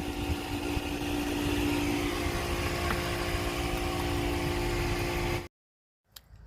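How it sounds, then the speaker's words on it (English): A Max Air Fan Deluxe vent fan runs in exhaust mode, blowing air out with a steady, close mechanical hum and drone that cuts off abruptly near the end, followed by near silence and a faint click. "Right now the fan is blowing out, which is usually what I use it at."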